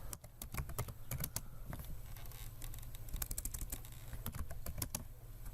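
Steady typing on a computer keyboard, quick irregular clicks and key taps close by and fairly quiet, with no talking over it.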